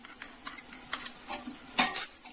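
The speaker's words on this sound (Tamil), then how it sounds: "இதையும் போட்டு நல்லா வதக்குங்க" Ginger and garlic paste sautéing in a pan for vegetable biryani, a steady soft sizzle broken by repeated scraping and tapping of a spoon against the pan, close and unhurried, with no talking.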